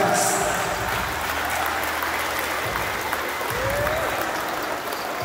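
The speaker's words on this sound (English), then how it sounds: "let's give a round of applause to our two boxers for giving us a hell of" Sustained crowd applause for two boxers after a knockout boxing bout, dense steady clapping filling the arena at even loudness throughout, with some voices mixed in.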